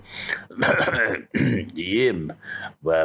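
A voice imitates an elderly grandfather clearing his throat and coughing, in several close, harsh, voiced bursts separated by short pauses.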